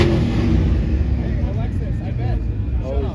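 A turbocharged Ford Mustang drones at a modded car meet, a steady engine roar with faint rising turbo whooshes, heard under people chatting close by.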